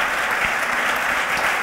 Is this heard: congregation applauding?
yes